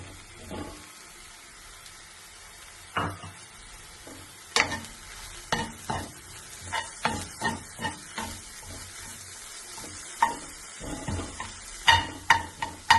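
Paneer being stirred and fried in a pan for an egg sandwich, with a soft sizzle under repeated scraping spoon strokes that grow busier and louder toward the end, no talking.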